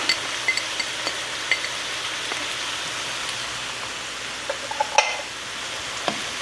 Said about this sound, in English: I'm going to saute those for a little bit before integrating them into the rest of the dish.